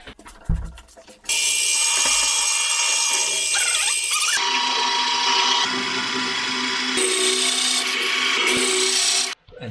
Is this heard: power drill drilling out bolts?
yes